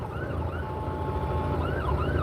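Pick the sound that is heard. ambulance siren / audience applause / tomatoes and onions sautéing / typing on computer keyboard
ambulance siren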